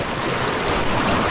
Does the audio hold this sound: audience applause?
no